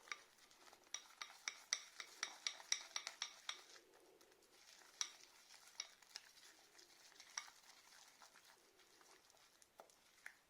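A sauce being stirred for ginger grilled sardines, with a spoon clinking and scraping against the pan in quick irregular taps, dense early on and then sparser, close and fairly quiet with no talk.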